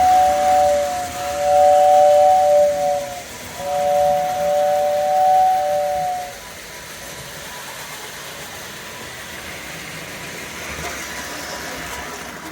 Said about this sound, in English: And the whistle works good.